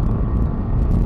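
A KTM 390 Adventure motorcycle rolls on in third gear uphill, a steady close engine drone with wind rumble, no talk over it.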